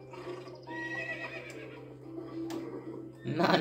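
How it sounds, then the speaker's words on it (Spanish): A horse neighing in the LittleBigPlanet video game, one drawn-out whinny with a falling pitch over a steady electronic hum, followed by a brief louder noisy burst. "Tienes que ir al caballo."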